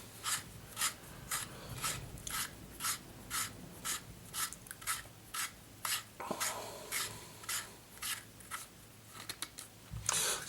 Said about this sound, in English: the next thing we're going to do is put that barrel nut on there